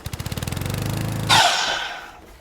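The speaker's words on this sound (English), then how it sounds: "We'll cut a 15-degree bevel on both ends of our board." A power saw cuts a 15-degree bevel across the end of a wooden board. A pulsing motor hum comes first, then a sudden loud burst of cutting noise that fades over the next second.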